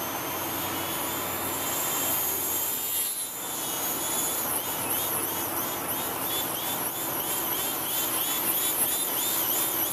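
A UMX AS3Xtra model airplane flying on its maiden flight, its electric motor giving a steady, loud high whine with fluttering pitch wobbles as the AS3X stabilization corrects, continuous throughout.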